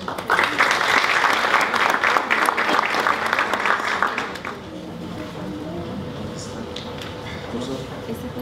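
An audience gives a warm welcoming round of applause for a speaker, loud and dense for about four seconds before fading into a quieter room with some voices.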